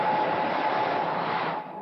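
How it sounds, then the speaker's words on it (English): Steady, even hum and fan whoosh from an F5 VIPRION network hardware chassis at a busy trade-show equipment booth, with a faint tonal whine inside and no speech. "here's the hum of the Vyprion."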